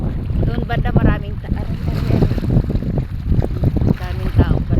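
Sea waves on a windy coast wash in as a continuous rumbling roar under heavy wind buffeting on the microphone, with a voice talking over them.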